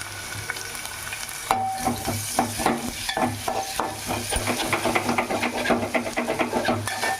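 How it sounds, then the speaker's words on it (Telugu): Tomato and an onion fry in hot oil with cardamom and cloves for an Andhra-style country chicken curry, a loud continuous sizzle with rhythmic stirring scrapes that grow busier partway through, no voices. "నెక్స్ట్ టమాటా, 1 ఉల్లిపాయ, అవి కూడా బాగా వేయించుకుందాం."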